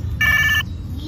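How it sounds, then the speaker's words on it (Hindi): A toy telephone rings once with a short bright electronic trill lasting about half a second, loud and close, over a low background murmur. "उसको उसकी उस फोन की आवाज आ गई"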